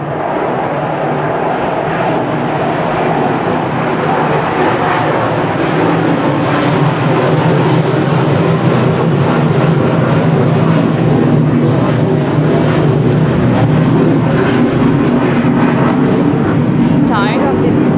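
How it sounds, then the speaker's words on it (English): Aircraft drone overhead in a steady broadband rumble lasting the whole stretch, loud and constant, with no distinct engine notes standing out of the wash. "Tired of these planes hovering around all the time."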